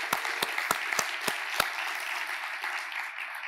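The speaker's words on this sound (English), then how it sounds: "I think we should give her another round of applause" Steady audience applause in a large conference keynote hall, dense and sustained for several seconds with a few sharper claps standing out near the start.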